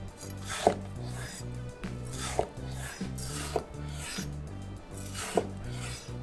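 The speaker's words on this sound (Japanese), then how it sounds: "じゃあ炙ったものを切りつけて" A knife slices through seared butterfish sashimi on a board, several rasping strokes each ending in a light tap, over soft background music.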